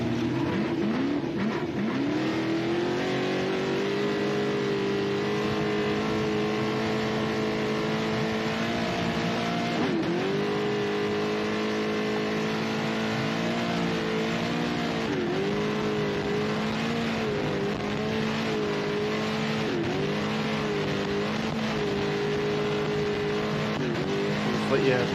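Off-road desert race car engine at high speed in sixth gear, a loud sustained roar with periodic dips and climbs as the revs shift, heard from on board with voices talking over it.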